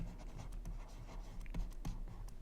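Someone writes on a page with quick scratchy strokes, a series of soft irregular scrapes, close and quiet, with no talking.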